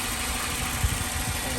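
A Volvo car engine idles steadily with a low, even rumble after a pressure hose leak and idle-up fault were fixed, holding a constant level with a brief thump partway through.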